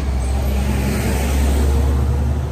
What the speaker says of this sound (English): let this truck go past.